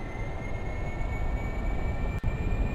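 Aircraft taking off in the video game Kerbal Space Program, a steady, loud engine roar with a faint whine, holding level throughout with one brief dropout near the end.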